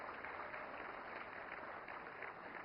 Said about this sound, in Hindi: फिल्म गुलमोहर के लिए जोरदार तालियां